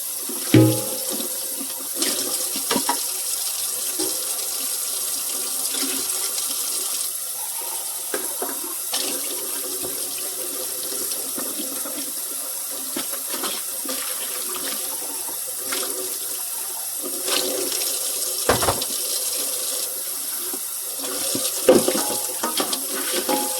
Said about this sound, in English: You're washing the dishes, and then we're going to wipe the sink out